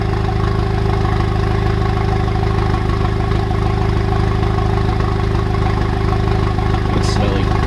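A Honda Civic Type R with catless downpipe, front pipe and Remus exhaust fully open idles steadily, a loud, even low droning burble close by with no revving.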